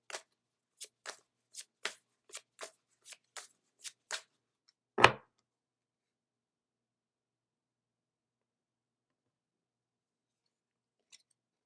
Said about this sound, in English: Next, we will pull a card from the Spirit Animal deck.